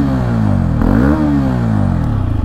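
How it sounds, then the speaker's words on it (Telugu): A liquid-cooled motorcycle's exhaust revving up loud and close, the engine note rising and falling steadily over a couple of seconds with no talking. "ఒకసారి ఎగ్జాస్ట్ సౌండ్ వినండి."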